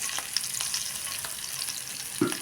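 Green chillies and curry leaves fry in hot tempering oil with a steady high hiss, a few soft stirring scrapes and one brief clunk near the end, with no voices.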